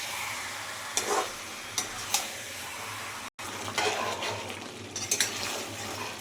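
Chicken sautéing in a pan with a constant sizzle, broken by several scraping stirs of a spoon against the metal and a brief cut near the middle.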